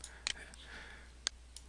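A computer mouse clicks twice in quick succession, then a second double-click follows about a second later, crisp and close over a faint quiet background.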